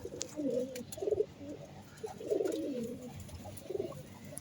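Pigeons kept in a loft coo softly in a few separate rounded phrases, faint and slightly distant, with quiet background rustle between calls and no talking.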